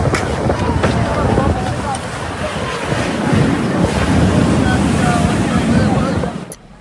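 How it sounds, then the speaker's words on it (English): Storm winds roar in strong, constant gusts during flash floods in Saudi Arabia, a loud broadband rush with wind buffeting the microphone for several seconds before cutting off abruptly. "showing winds so strong that they could knock down heavy plastic fences"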